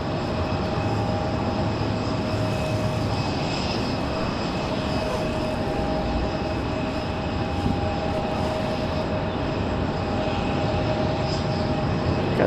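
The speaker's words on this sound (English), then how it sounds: "So Frontier looks like it's going to be our next departure," A Frontier Airbus A321 departing Raleigh Durham airport, a steady broad jet roar with a faint high whine, constant and moderately distant throughout, with no voices.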